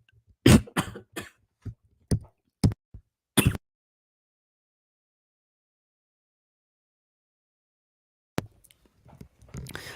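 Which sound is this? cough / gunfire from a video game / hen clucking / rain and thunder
cough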